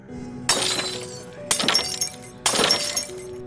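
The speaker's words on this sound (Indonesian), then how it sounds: "Kaca di setiap ruangan pecah berkeping-keping, dihantam angin kencang" Glass windows shatter three times in quick succession, struck by strong wind, each crash a sharp loud burst followed by a tinkling spray of fragments.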